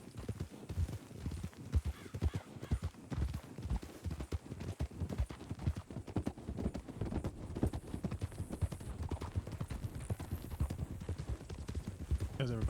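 Horses trotting in the video game Red Dead Redemption (RedM): a close, rhythmic clip-clop of hooves that continues steadily, with voices talking over it at times.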